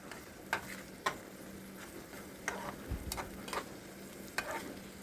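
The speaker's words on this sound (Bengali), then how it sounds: "বেটে রাখা কাঁকরোলগুলোকে আমি ফ্রাই প্যানের মধ্যে অ্যাড করে দিয়েছি।" Ground spiny gourd paste fries in a pan over low to medium flame, a quiet sizzle broken by a series of sharp, separate spatula scrapes and taps as it is stirred.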